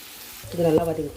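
Shredded cabbage sautés in a pan with a soft, steady sizzle while a voice speaks briefly over it.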